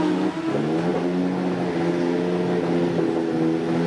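Lotus Renault turbocharged Formula 1 car with a Renault qualifying engine of over 1,200 horsepower, revving steadily and loudly nearby, a continuous harmonic engine drone with small pitch shifts, no talk.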